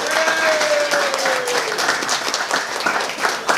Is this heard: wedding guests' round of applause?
yes